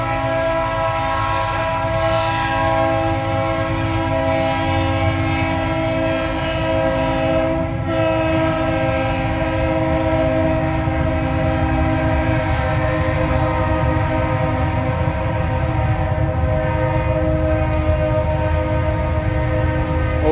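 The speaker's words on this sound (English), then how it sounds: "Old train sounds good, don't it?" An old train passes close by, its horn sounding in long sustained tones over the continuous rumble and rattle of the wagons, loud and unbroken for the whole stretch, with no one speaking.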